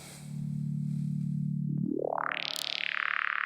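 A buzzy sawtooth synth drone from a modular synthesizer holds a low steady pitch, then sweeps sharply upward into a bright, harsh high tone that lingers.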